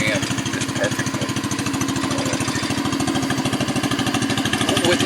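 A steady, close running drone of a 1.5 horsepower engine fitted with Sparkbox ignition, firing in a fast, even putt-putt rhythm that holds without change throughout.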